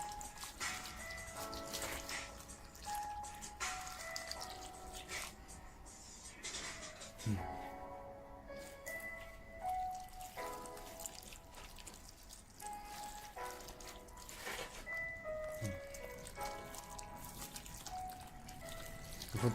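Potted palm plants are watered, with soft trickling, pouring and dripping from close by, broken by brief pauses between pours.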